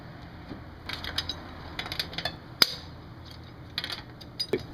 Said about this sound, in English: first we got to loosen it before we raise it to remove the tire